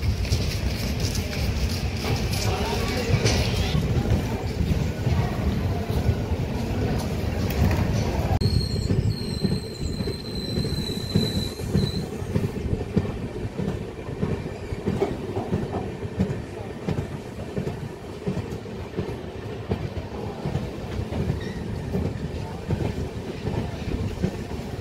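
An express train pulls out of Jammikunta railway station in India with a steady rumble of wheels and carriages, a high metallic squeal rising briefly partway through, heard from on board.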